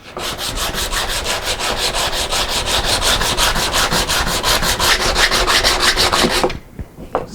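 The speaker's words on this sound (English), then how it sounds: "Sanding is going to take a little while." Sandpaper on a wooden offcut block smooths a slot in a wooden smartphone mount, giving a long run of quick, regular back-and-forth scratchy strokes, close and steady, that stops abruptly near the end, followed by a couple of faint knocks.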